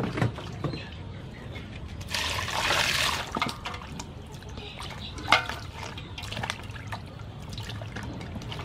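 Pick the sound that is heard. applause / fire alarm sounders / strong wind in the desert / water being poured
water being poured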